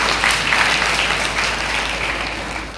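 Steady, loud applause fills a school hall at a Nirmala Convent School leadership selection event, a full wash of many hands clapping for student participants that fades gently toward the end.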